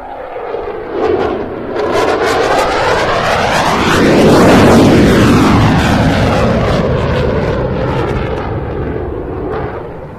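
A Eurofighter Typhoon in its Union Jack "Blackjack" scheme roars through an air display at the Bournemouth Air Festival, its loud engine swelling to a peak as it passes overhead, sweeping in pitch, then slowly receding.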